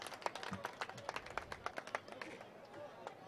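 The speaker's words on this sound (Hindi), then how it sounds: "एक बार जोरदार ताली बजा करके भंवरलाल जी साहब का सम्मान करें।" Audience clapping in honour of a guest at a felicitation ceremony for a premier league cricket event in Barmer, sharp scattered claps building briefly and then thinning out, fairly faint, with murmuring voices underneath.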